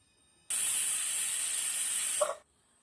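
A pressure cooker of Hyderabadi mixed vegetable masala lets off one loud, close jet of hissing steam lasting about two seconds, ending with a brief tonal whistle before falling silent.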